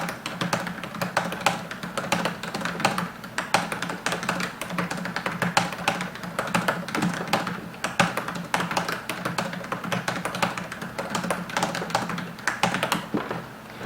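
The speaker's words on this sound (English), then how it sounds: "I just want to kind of show you what the keyboard sounds like." Rapid typing on a Toshiba laptop keyboard gives loud, clacky keystrokes in a dense, uneven stream, heard up close and alone.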